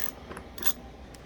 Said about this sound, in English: now we're going to drive in this screw